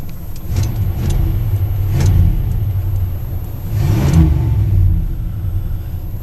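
A Chevrolet Caprice engine runs close by with a steady low rumble, swelling in two revs around the middle and near the end, with no talk over it.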